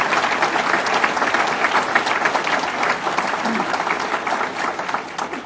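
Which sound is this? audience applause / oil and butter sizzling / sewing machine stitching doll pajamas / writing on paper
audience applause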